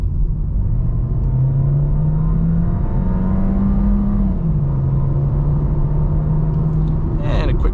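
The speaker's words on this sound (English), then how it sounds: "here is where we're going to do our acceleration test" A 2025 VW Jetta with a 1.5 turbo four-cylinder accelerates hard, its engine drone rising and shifting under steady road and cabin rumble, heard from inside the car.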